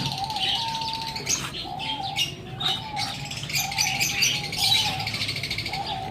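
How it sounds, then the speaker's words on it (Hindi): Pigeons bathing in a water-filled tub coo and call repeatedly, with chirps and splashing flutters mixed in, close by over a steady outdoor background. "डब्बे में बैठ के कुछ कबूतर नहा रहे हैं"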